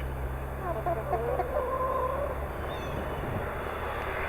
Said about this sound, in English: Look at these chickens. That's one heck of a nice looking rooster there.